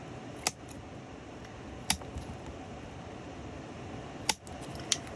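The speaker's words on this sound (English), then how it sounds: "You could use your X-Acto or some such, but I found that the scissors just work really well." Scissors cut cardboard to make a weaving loom, giving a few sharp, isolated snips spread across a quiet room with low background hiss and no talk.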